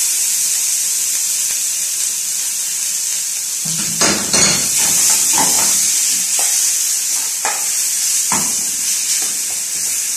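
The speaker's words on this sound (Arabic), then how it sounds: "المقلايه سخنت. نحط فيها معلقه سمنه وعلى طول البصله" Onion hissing and sizzling in hot ghee in a frying pan, a steady bright fizz with occasional clinks and scrapes of a spoon stirring against the pan, close up.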